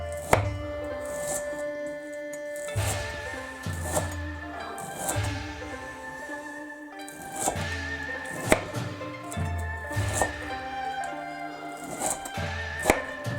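A thin-bladed knife finely chopping seaweed on a cutting board for Chinese crispy seaweed, producing rapid rhythmic thuds in repeated bursts with short pauses between them.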